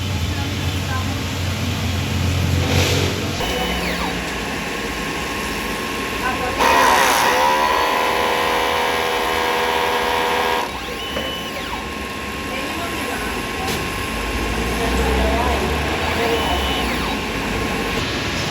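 A DTF printer runs its head clean cycle, a steady mechanical hum with pumping and whirring motor passes that shift pitch midway, heard close with a voice speaking briefly over it.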